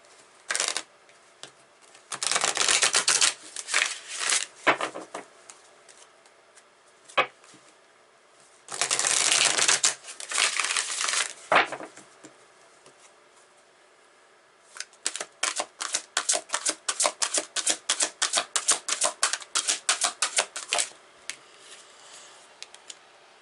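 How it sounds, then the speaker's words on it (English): Tarot cards riffle and slap in quick bursts of crisp papery rattles, then a long run of rapid, evenly spaced flicks as the deck is shuffled and cards are pulled, close and fairly quiet. "I'm going to pull a tarot card on this one."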